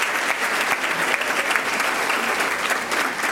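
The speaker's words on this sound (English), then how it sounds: "Let's give them a round of applause before we move into audience questions." Dense, steady audience applause for panelists at a Columbus Metropolitan Club discussion on diversity, loud and even from start to finish with no talking.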